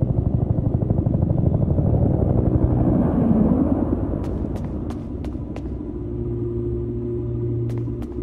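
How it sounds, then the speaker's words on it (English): Evacuation helicopter in a horror point-and-click game, a loud steady rotor rumble that dominates throughout, with a few sharp high clicks partway through and a low droning tone joining near the end. "Is that the evac chopper?"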